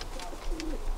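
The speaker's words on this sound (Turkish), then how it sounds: "Emek verdiğimiz kuşlarımız bunlar." Racing pigeons coo inside a coop in Turkey, a soft low call or two heard close by over a faint background hum.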